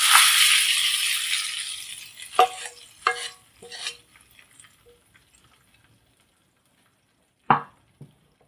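A tadka for moong and masoor dal hits the pot with a bright hiss that fades over a couple of seconds, followed by a few short stirring scrapes and clinks, then a last sharp clatter.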